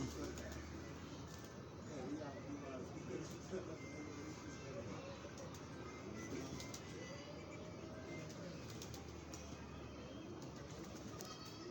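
A pigeon held in the hand at a bird fair gives soft, low cooing, faint against a busy background of crowd chatter.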